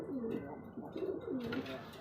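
Racer pigeons coo close by in soft, rolling, repeated calls, several overlapping burbles in quick succession.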